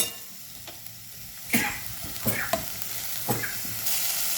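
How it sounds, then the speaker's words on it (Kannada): Leafy greens and green chillies are sautéed in oil with garlic for a one-pot lentil dish, a steady soft sizzle under several clattering stirring scrapes at close range, with no talk. "ಒಂದು 2 ನಿಮಿಷ ಈ ಎಣ್ಣೆಯಲ್ಲಿ ಬಾಡಿಸ್ಲಿಕ್ಕೆ ಸೊಪ್ಪನ್ನು"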